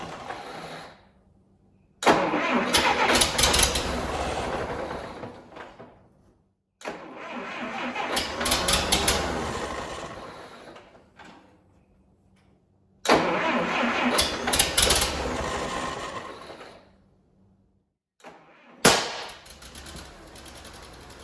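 An Allis-Chalmers D17 tractor engine, just back together after a head gasket replacement and suffering an electrical problem, is cranked repeatedly: four bursts of starting and rough running a few seconds each, separated by quiet pauses.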